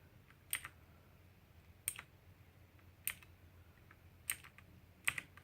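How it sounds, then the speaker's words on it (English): Keystrokes on a Motospeed Inflictor CK104 RGB mechanical keyboard sound as five sharp, clicky bursts spaced about a second apart against a quiet background. "typing on this keyboard can be really, really loud"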